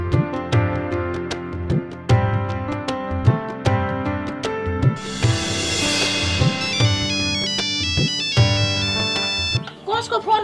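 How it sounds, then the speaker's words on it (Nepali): A mobile phone ringtone plays loudly and close, a repeating melodic tune with sharp rhythmic beats and a brighter burst partway through, going on for about ten seconds. "फोन आइरहेको रहेछ ल्याउनुहोस् त"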